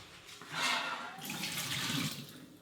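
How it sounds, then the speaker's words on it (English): Whey being poured from a cheesecloth-wrapped curd mass into a bowl while making homemade mozzarella from milk powder, a steady liquid splash and trickle that swells and eases over a few seconds, close and moderately loud. "I'm going to just take it and pour it into this bowl here."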